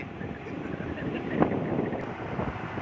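Wind rushes across the microphone aboard a tour boat near Bang Pa-in in Ayutthaya, a steady, blustery roar with gusts, over the low hum of the boat moving on the river. People talk close by.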